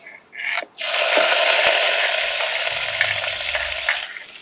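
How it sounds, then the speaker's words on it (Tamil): Green chillies frying in hot oil on a stovetop, a loud continuous sizzle that bursts up after a brief quieter start and crackles steadily throughout, with no talking. "எண்ணெயும் பார்த்தீங்கன்னா நல்லா சூடாகிட்டு இப்போ நாங்கள் வெட்டி வச்சிருக்கிற பச்சை மிளகாவை சேர்த்துக்கொள்ளுவோம்"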